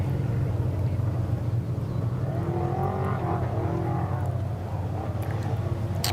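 A Baja 500 race truck, the 15T, pulls off the start line at a qualifier, its engine a steady loud roar that rises in revs and holds strong for several seconds.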